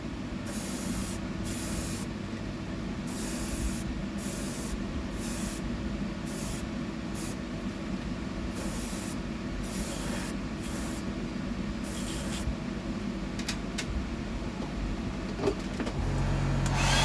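A purple coat is sprayed onto a fishing lure, heard as close, loud airbrush-style hissing bursts of varying length over a continuous compressor hum, with a few short taps near the end.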